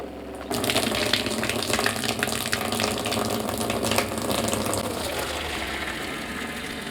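Maple sap gushing from a pump setup into a container, starting abruptly and then running as a steady, loud splashing flow close by, easing slightly near the end.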